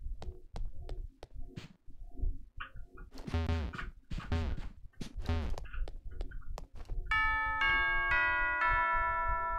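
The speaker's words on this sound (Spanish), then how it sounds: "¿Por qué suenan ahora las campanas?" Chiming bells ring out in the Pokemon Ultra Moon video game, a string of bright tonal hits leading into a sustained, layered ringing tone near the end, loud and close with no talk over it.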